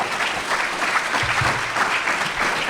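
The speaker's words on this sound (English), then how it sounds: "really let us give another round of applause to our distinguished guests" A roomful of people clapping for distinguished guests at a formal event: a loud, full, continuous round of applause holding steady for a few seconds without talk.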